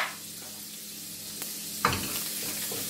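Butter sizzles and melts in a hot pan while cooking liver and onions, a steady close frying hiss broken by a couple of brief scrapes or clatters from a utensil.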